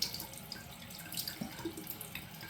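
Tap water running steadily into a sink while a Gillette Super Speed safety razor is rinsed, a soft continuous splash with small drips and clinks, quiet and close.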